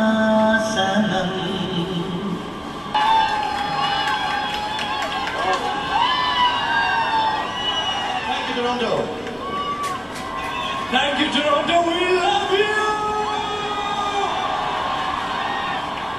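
Large concert crowd at the IIFA Awards 2011 in Toronto, Canada, cheering, whooping and shouting continuously throughout, loud and dense, with individual voices rising above the roar and speech mixed in.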